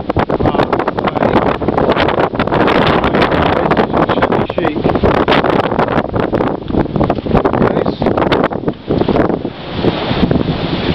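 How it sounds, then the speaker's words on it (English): Strong wind buffets the microphone with a constant loud rumble and roar, gusting throughout while a voice speaks underneath. "It's very windy today"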